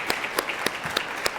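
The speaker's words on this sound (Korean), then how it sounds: "잠시 일어나시면 우리 축하하는 박수 하겠습니다." A church congregation applauding a newly married young woman back from her honeymoon during Sunday worship, brief rhythmic clapping with distinct sharp claps at regular intervals over a soft room wash.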